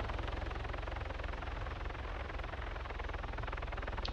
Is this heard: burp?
no